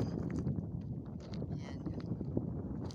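Wind gusts over a mountaintop in Oman in the evening, a soft, uneven rushing and buffeting against the microphone that swells and dips throughout.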